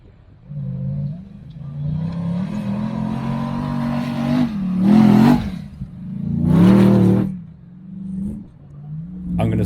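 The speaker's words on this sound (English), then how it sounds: "we're about to hear some really good exhaust noise" Nissan Patrol 4WD with a 2-inch lift revving off-road on a beach track, its engine and exhaust rumbling steadily, then swelling into two loud revving bursts and a third rising surge, close and without talk.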